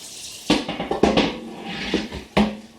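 Canning lids being rinsed under a kitchen sink tap, with light metallic clinks and knocks over splashing water, several sharp clatters spaced through the stretch, nearby and fairly quiet.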